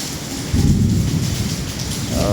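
Heavy rain pours steadily with a deep rumble of thunder rolling underneath, loud and continuous through the short stretch, outdoors where a car is parking.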